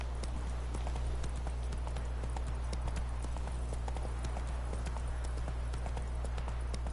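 Galloping horse hooves in The Witcher 3 video game: fast, continuous rhythmic hoofbeats heard close and steady over a low droning background, with no talking.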